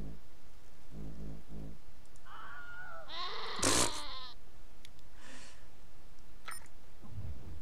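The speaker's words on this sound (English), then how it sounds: "these are the goats that we brought with us" Goats bleat in Wasteland 2, a few wavering, nasal calls rising over a low ambient hum, with one loud cry at the centre and fainter bleats around it.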